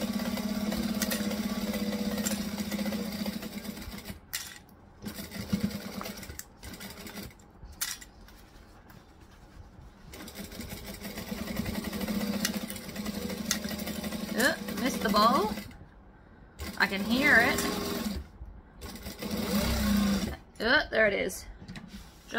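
A sewing machine stitches and backstitches a bag, bursts of fast mechanical running interrupted by pauses and handling clatter, with a person talking throughout.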